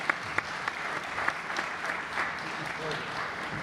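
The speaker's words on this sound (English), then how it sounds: "Let's give a round of applause to our amazing." An audience at a summit event claps steadily in a short burst of applause, moderately close and fairly even throughout.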